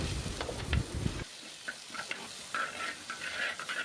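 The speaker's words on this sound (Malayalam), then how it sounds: "കറിവേപ്പിലയും പച്ചമുളകും ചേർത്ത് ഒരു 2 മിനിറ്റ് വഴറ്റിയതിന് ശേഷം" Curry leaves and green chillies sauté in hot oil with a close, crackling sizzle, broken by stirring scrapes and a heavy clatter early on, then lighter frying with a few pops.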